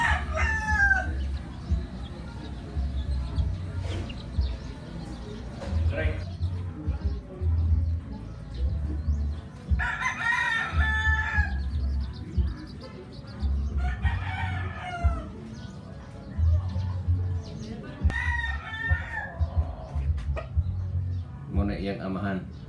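Native Visayan rooster crowing several times across the clip, clear and fairly close, with other chickens clucking and a low rumbling background; people talk intermittently.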